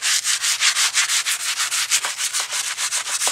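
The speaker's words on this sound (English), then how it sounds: "Now I take my brush and start scrubbing it clean." A brush scrubs grit and grime off a brake caliper in quick, steady back-and-forth strokes, loud and close, with no talking.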